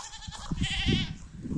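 A single wavering goat bleat rises over steady munching and rustling as goats feed on alder branches outdoors, moderately near.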